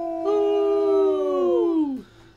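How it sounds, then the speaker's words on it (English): A dog's ear-piercing, monstrous howl rises and holds as a long harmonic wail, then bends downward and cuts off sharply, loud and close with no talk over it. "He tilted his head to the sky and let out an ear-piercing howl."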